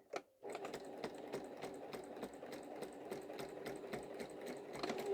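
A quilting sewing machine stitches in the ditch, running steadily at a fairly even pace with soft repeated needle ticks, moderately close and with no talk over it.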